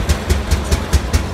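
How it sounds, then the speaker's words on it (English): An early gas tractor engine idles at a threshermen's reunion parade with slow, heavy, regular low thumps, about seven evenly spaced firing pulses, loud and close with no talking. "The early gas tractors, ladies and gentlemen, right there."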